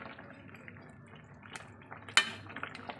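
A spoon stirs fish curry in a cooking pot, soft scraping and a few faint metallic clinks, with one sharper knock near the end, quiet and close.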